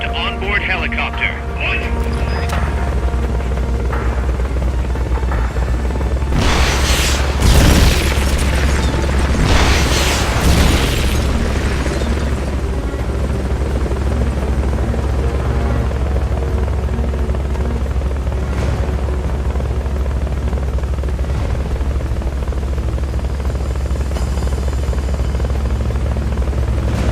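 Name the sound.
Fulton recovery helicopter in video game Metal Gear Solid: Peace Walker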